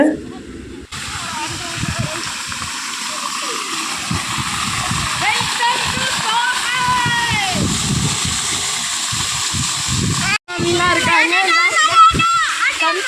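Children splash and shout in water gushing from a motor pump at a farm grove, loud continuous churning and sloshing close by, with excited kids' voices and laughter throughout.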